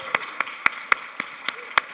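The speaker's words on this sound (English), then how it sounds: "One more round of applause, please." Sparse, evenly spaced claps at a talk on collaboration: about seven distinct sharp hits in a slow regular rhythm over a quiet background, more like a single person clapping than a full room.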